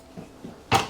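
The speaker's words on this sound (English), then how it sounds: "Just let me shut this door." A door swung shut with a single solid thud near the end, preceded by two faint knocks of handling, close by in a quiet room.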